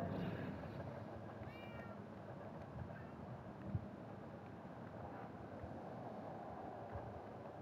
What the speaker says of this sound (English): we're gonna need to play as a cat